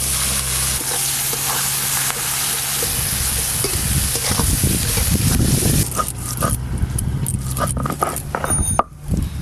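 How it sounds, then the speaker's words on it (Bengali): Chopped onions fry in hot oil with whole garam masala for a meat curry, giving a continuous close sizzle that grows busier with scraping stirs and clatters toward the end. "পেঁয়াজ কুচিগুলো সুন্দর করে লাল লাল করে ভেজে নিয়েছি।"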